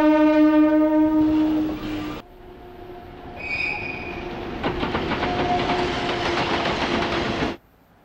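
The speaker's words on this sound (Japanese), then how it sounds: "通過する列車が僕の言葉をかき消していく。" A train horn blares, then a train rumbles past with clattering wheels and high squeals, loud and close, before cutting off abruptly; from the PS2 game Blood: The Last Vampire.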